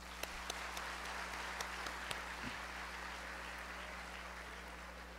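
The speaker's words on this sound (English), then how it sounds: "Guys, let's give them a round of applause." A graduation audience at a senior high school ceremony in Pasay City gives a faint, steady round of applause. A few sharper claps stand out over a low constant hum.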